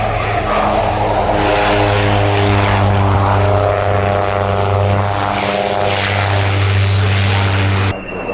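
Propeller aircraft flying at an airshow, a loud steady engine drone with strong tonal harmonics held close for several seconds before cutting off abruptly.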